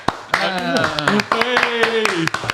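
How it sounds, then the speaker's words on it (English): Several sharp hand claps ring out in an irregular burst over sustained musical tones, fairly close and loud. "I didn't clap, but I will."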